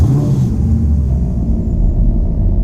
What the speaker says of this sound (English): even the sound of the car is just different than everything else.